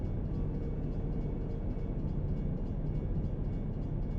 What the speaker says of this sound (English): It's an Amtrak. Look at that.